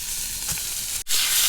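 Ribeye steak searing over a campfire on a kayak camping trip, giving a steady close sizzle with a brief dip near the end.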